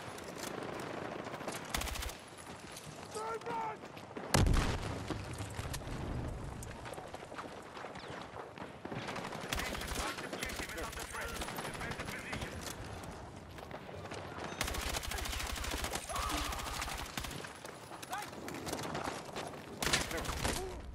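Dense Battlefield 6 gunfire crackles almost without pause as bullets hit the player in a multiplayer match, rapid automatic bursts and impacts mixed with game noise, and a player talks over it throughout.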